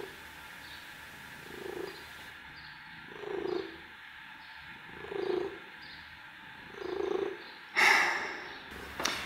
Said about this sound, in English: I'm gonna get rid of the cat first because this is making noise